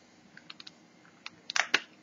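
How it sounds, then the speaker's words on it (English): Small screwdriver prying open the faceplate of a Pioneer DEH-P9800BT car stereo: a few faint light clicks, then two sharper, louder snaps of plastic catches releasing close by near the end. "with a little screwdriver here, little tiny job, you just pry it open very gently"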